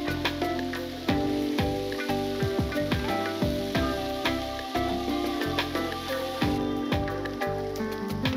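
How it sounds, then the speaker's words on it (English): West Indian Topshell and vegetables stir-frying in a pan, a steady dense sizzle with crackles and scraping stirs throughout, close and fairly loud. "Stir-fried up the veggies, working on browning the West Indian Topshell."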